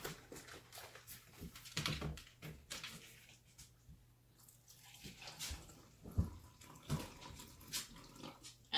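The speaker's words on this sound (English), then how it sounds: "And I did a long pour, so I have just under 1 cup of apple cider vinegar" Apple cider vinegar pours in a steady trickling stream at close range into a jam maker pot, with a few clinks and knocks of a container along the way.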